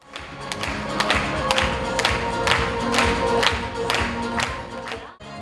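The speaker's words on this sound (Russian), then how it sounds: "Сегодня аплодисменты, слова поздравления звучат в адрес юных салаватов, победителей и призеров олимпиадного движения" Audience applauding young olympiad winners at an award event in Salavat, a loud, dense burst of clapping with distinct sharp claps and thuds, sustained for several seconds before cutting off abruptly.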